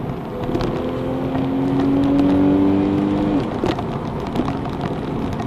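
Porsche 991 Targa 4S with 400-horsepower naturally aspirated engine and PDK gearbox accelerating, a steady rising engine note that climbs in pitch, then drops abruptly at a gear change before continuing, heard from inside the car.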